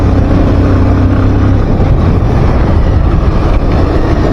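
A motorbike ridden in a zigzag along a road near Siliguri, with loud, constant engine and road rumble throughout, a steady low drone and no speech.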